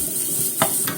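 Ginger sizzling in a pan over low heat while being stir-fried, a steady close hiss with two brief scraping stirs near the end.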